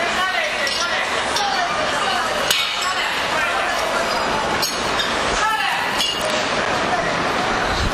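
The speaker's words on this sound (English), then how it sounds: "Post-tensioning crew couple the stress bars." Steel stress bars clink and knock as a post-tensioning crew couples them on a viaduct segment during segment gluing, sharp metallic hits scattered over steady construction-site noise with voices in the background.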